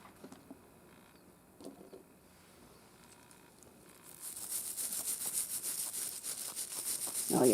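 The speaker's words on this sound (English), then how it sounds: "I think I'm going to get the toothbrush out and see if I can wipe some more of this off" Toothbrush scrubbing old gold-toned jewelry, first quiet scattered scratches, then from midway a steady rapid bristly rubbing that grows louder and close to the microphone.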